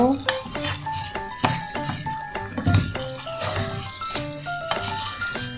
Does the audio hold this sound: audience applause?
no